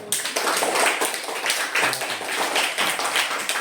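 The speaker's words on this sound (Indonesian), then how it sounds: "Kita beri tepuk tangan dulu untuk kelompok 1." A class claps for the first discussion group after its report, a dense, loud round of many hands clapping together without pause, alone and close.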